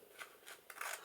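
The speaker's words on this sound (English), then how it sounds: "I'm just going to trim the edges off. I'm going to use my scissors for that" Scissors snip along the edges of a freshly made tall paper tag, giving a few short, quiet rasping cuts spaced about a third of a second apart, with the last cut longer.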